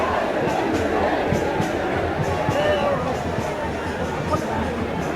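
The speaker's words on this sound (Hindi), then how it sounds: "इतने ज़्यादा भीड़ हमें जंतर मंतर पर नज़र आ रही है" A large crowd gathers at night at Jantar Mantar for a protest, making a dense, continuous babble of many voices that stays loud throughout with no single sound standing out.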